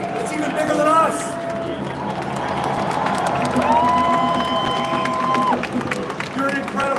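A large outdoor May Day workers' rally crowd cheers and applauds, sustained clapping and shouting with scattered whistles, while a speaker's amplified voice talks over the noise.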